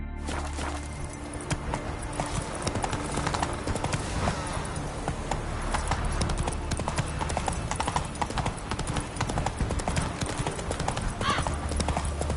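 Geralt's horse Roach from The Witcher 3 gallops in steady rapid hoofbeats, loud and close, with a brief whinny amid a busy game backdrop.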